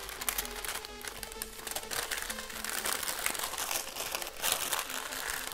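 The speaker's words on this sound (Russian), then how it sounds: "заворачиваем в пергаментную бумагу." Parchment paper crinkles and crumples continuously up close as pork fat is wrapped in it, a dense, papery rustle without pause.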